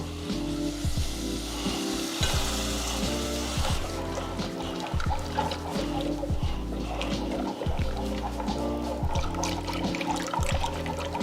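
Milk poured into a sizzling flour roux for mac and cheese, a continuous watery rush and bubbling hiss close up, with pulsing gurgles throughout.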